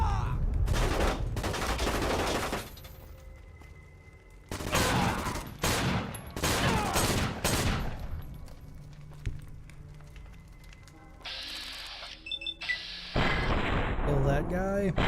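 Gunfire and explosions in the video game Fallout New Vegas: heavy bursts of shots and booming blasts in clusters with quieter gaps, plus game effects near the end and a voice talking in between.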